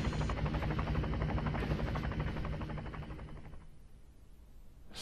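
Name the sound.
helicopter in the PS video game Chase the Express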